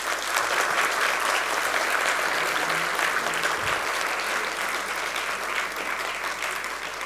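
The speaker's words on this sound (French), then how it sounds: "nous pouvons les embrasser dans une salve collective d'applaudissements" Collective audience applause closing an eloquence contest at Les Rencontres de l'Avenir 2024, a loud, dense and steady ovation lasting several seconds.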